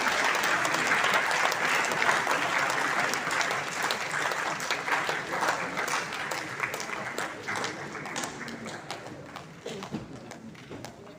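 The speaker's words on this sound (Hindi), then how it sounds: "सभी तालियों से स्वागत करें उनका।" An audience applauds to welcome an honoured guest at a historians' gathering, a dense, steady roar of clapping that stays fairly even and fades slightly toward the end.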